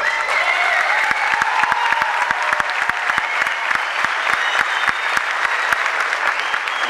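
Sustained applause from a crowd at a regional taekwondo tournament, dense continuous clapping throughout with no pause.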